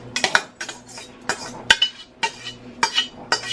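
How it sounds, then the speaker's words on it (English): A metal utensil scraping and clinking against a pot while ground turkey with green peppers and onions is transferred in, a series of sharp separate clanks at an uneven pace, close and fairly quiet. "I'm going to be transferring all of the ground turkey"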